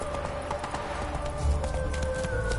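Horse hooves galloping in a PS4 video game, a quick, moderately loud clip-clop rhythm over a low rumble and a sustained musical tone, with faint game effects alongside.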